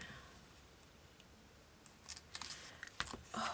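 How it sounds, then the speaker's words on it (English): Scissors make a few crisp snips into fabric for a journal cover, quiet and close, with small rustles between the cuts. "try some scissors that might work"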